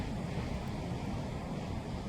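Continuous low roar of wind rumbling across the microphone at a Fraser Island camp, steady and fairly loud with no voices.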